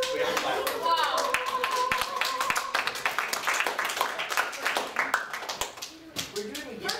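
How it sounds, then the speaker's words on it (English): A sixth-grade class bursts into energetic clapping, many quick, uneven handclaps that gradually thin out, with children and a teacher talking over them. "Everyone has to stop. Caitlin is wearing the Schoolhouse Rock shirt. We have to clap."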